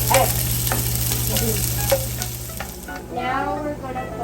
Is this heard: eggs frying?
yes